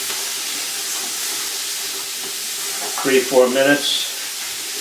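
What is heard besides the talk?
carrots and celery sautéing in a pot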